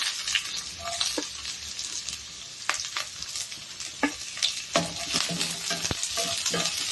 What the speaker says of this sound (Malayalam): ഇനി നമുക്ക് സബോള ഇട്ട് വെക്കാം